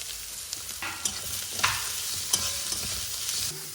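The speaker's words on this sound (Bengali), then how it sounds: "খুব বেশি কিন্তু ভাজা ভাজা হয়নি স্যুপের সবজি, একদম হালকা করে ভেজে নেবো।" Chopped onion, carrots and beans frying lightly for soup, a soft continuous sizzle with a few sharp scrapes and taps of stirring, close by and without voices.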